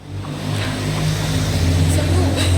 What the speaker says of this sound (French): si vous entendez les bruits de voiture